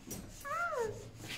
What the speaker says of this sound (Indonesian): Ada kucing deh.